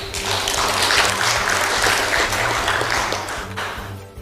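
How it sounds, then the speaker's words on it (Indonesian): Audience clapping fills a public meeting in Cilegon where residents and a Ministry of Religious Affairs official discuss a house of worship permit; steady, dense applause runs throughout, close and loud, with a low hum beneath. "Jadi jangan tepuk tangan dulu Pak."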